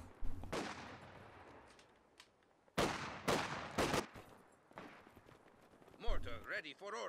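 US mortar firing in the Company of Heroes 2 video game, several sharp booming blasts spaced a second or so apart with battle noise between them. A commentator talks over them.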